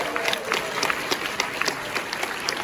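Applause from the audience at a filmmaker Q&A event, a steady wash of many hands clapping with scattered sharper claps throughout.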